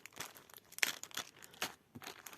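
A plastic seed packet of tomatoes, a dwarf variety, crinkles in someone's hands with several short rustling bursts, close and fairly quiet, with no talking.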